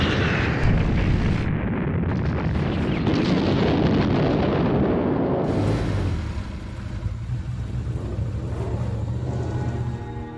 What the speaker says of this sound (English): the Germans invaded the country in 1940 and bombarded Rotterdam